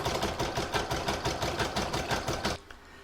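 A sewing machine stitches a creased crazy-patch fabric piece down on a hoop design, a fast regular mechanical rattle of needle strokes running for about two and a half seconds before stopping abruptly.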